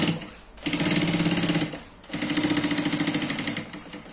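Sewing machine running a securing stitch around the edge of a fabric lining for a baby changing pad, two steady bursts of rapid, close, loud needle chatter with a brief pause between.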